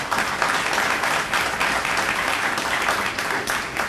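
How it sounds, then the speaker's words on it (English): Steady audience applause at a Wayne K. Curry exhibit event, dense and even clapping that holds at a constant level from start to finish with no break. "if we can give them another round of applause."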